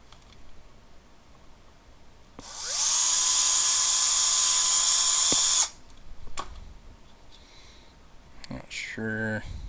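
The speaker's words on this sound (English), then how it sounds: "Gonna drill that cap here." A power drill bores through a battery cap for a motorized bicycle battery build, a loud high whir lasting about three seconds, followed by clicks, handling noises and a voice.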